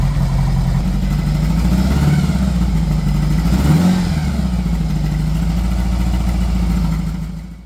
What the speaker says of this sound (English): Would you let your Goldwing idle at this speed,